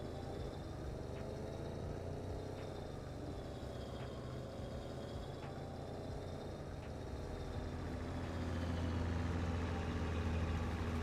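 A tractor engine in Farming Simulator 22 drones at a low, steady pitch while hauling an implement, with faint periodic clicks, and swells a little louder near the end.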